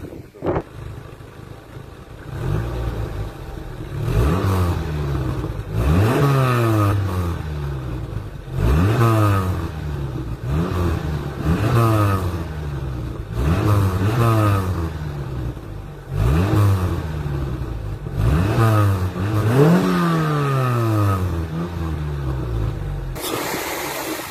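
Renault Clio 2 exhaust heard from behind the car as the engine is revved repeatedly, about eight rising and falling blips over a steady idle.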